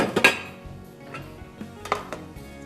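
Pans and cookware clatter in a home kitchen during cooking, several sharp metallic clinks and knocks spread unevenly, close and moderately loud.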